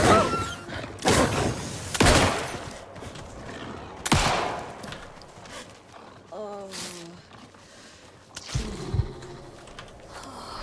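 Gunfire in the horror game Alan Wake 2: several loud, separated shots ring out, each with a sharp crack and tail, spaced a second or two apart, mixed with game sounds and someone talking.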